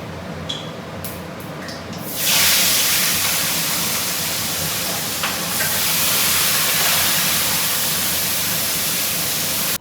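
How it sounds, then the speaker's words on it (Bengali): Fish heads frying in a pan, a loud rushing sizzle surging up after a couple of seconds and holding steady, close by. "মাছের মাথাগুলো আমি এদিকে ভেজে নিচ্ছি"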